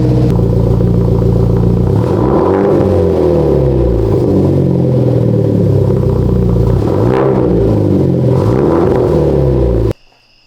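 A Hyundai Genesis Coupe engine with a new ISR race catback exhaust and test pipe idles with a deep, steady rumble, revved a few times in short bursts, loud and close, then cuts off abruptly.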